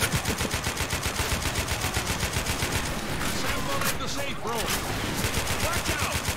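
Sustained rapid automatic gunfire from the zombie shooter Left 4 Dead 2, a dense, steady stream of loud, close shots running the whole time, with brief faint voice sounds and game noise mixed in partway through.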